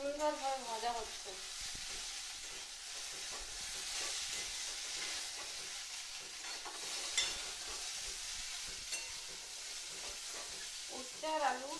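Sliced bitter gourd with potato frying plain without salt or turmeric: a steady, close sizzle with scattered stirring clicks, briefly joined by a speaking voice at the beginning and again at the end.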